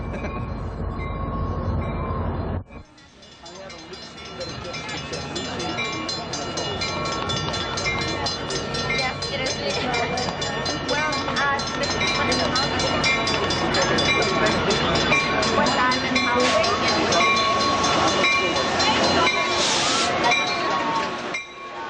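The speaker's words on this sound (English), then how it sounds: "I think I hear a Metrolink train coming now, Tom." A Metrolink commuter train pulls into Newhall station, a long, rumbling, steadily building rush of wheels on rails with metallic clinks and screeches, close and loud throughout, with a brief horn-like tone near the end.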